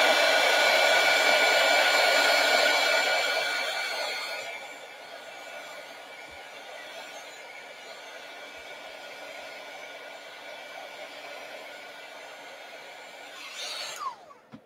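A hair dryer blows steadily and loudly over an art journal page for about four seconds, then drops to a quieter, softer whir that runs on to the end before cutting off.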